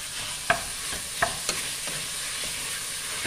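Ground beef gets stirred into a pan of fresh tomato marinara sauce, with soft scraping strokes of a spoon at irregular intervals over a low, steady simmering sizzle.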